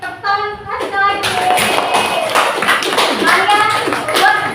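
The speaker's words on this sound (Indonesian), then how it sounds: "Untuk semangatnya beri tepuk tangan Aska lagi." A classroom of students claps for a classmate named Aska during an Islamic religious education lesson on halal and haram. The clapping is steady and close, with children's voices and cheering mixed in over it.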